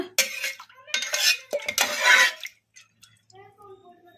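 A spoon scrapes and clinks against a metal pressure cooker while dal, water, turmeric and oil are stirred together, a few bright clattering bursts followed by a quieter pause with a voice speaking faintly.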